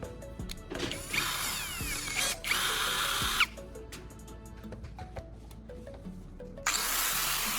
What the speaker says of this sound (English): I'm securely mounting the center electrode onto my drill.